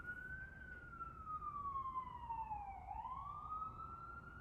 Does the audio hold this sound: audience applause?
no